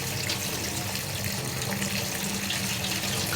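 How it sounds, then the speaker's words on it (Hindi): Tap water runs steadily into a sink while raw chicken is washed with salt and vinegar, a continuous close hiss and splash with no voices. "नमक और सिरके के साथ इसे अच्छी तरह धोना है।"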